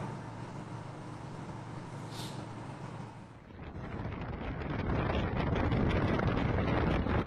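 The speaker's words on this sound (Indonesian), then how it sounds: "saat angin kencang di tengah jembatan Suramadu" Strong wind sweeps across the Suramadu bridge, roaring into the microphone as steady buffeting noise that swells louder and rougher halfway through, with no voices.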